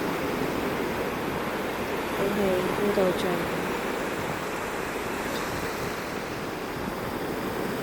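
Ocean waves wash in a steady, broad surf roar that stays constant throughout, while a calm voice speaks softly over it.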